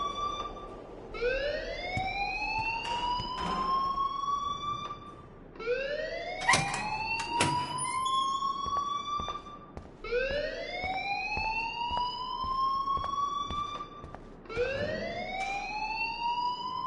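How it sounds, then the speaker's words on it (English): A rising, whooping alarm in a video game blares loudly in repeated sweeps, each climbing and holding for about four seconds, four cycles in all with no talk. "please turn off that alarm since that's your job"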